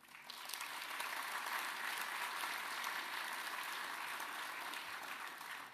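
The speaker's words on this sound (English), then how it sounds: "Applause for so many very qualified and very interesting and very" Applause from a conference audience for the speakers at closing remarks, a steady, dense wash of clapping heard at a distance and fairly quiet, sustained for several seconds.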